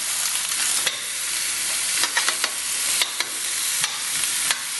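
Pork for a sauerkraut pork hock dish sweating in a hot pan, giving a steady, loud, close sizzle with occasional sharp stirring scrapes and clicks.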